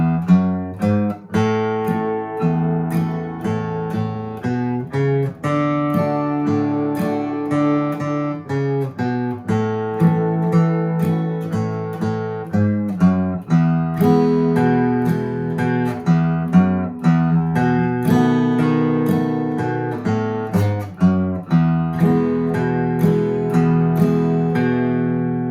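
Acoustic guitar playing the alternating bass-note and strummed-chord boom-chick pattern of a country song, with steady rhythmic strums, close and clear, with no talking.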